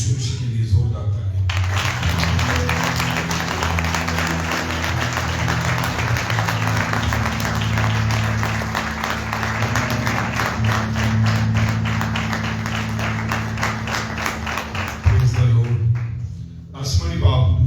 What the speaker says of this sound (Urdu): آئے خدا یسوع مسیح کے لیے زوردار تالیاں